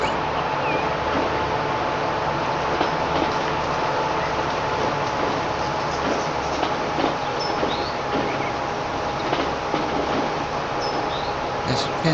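A train running on rails in the Transport Fever video game gives a steady, continuous rumble with faint clattering along the track, holding an even level throughout with no talk over it.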